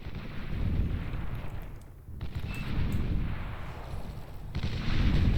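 T2 Hornet gunships fire missile barrages in the strategy game Beyond All Reason, heard as a dense, continuous rumble of blasts and explosions that holds steady, briefly dips, then swells again, with no voices.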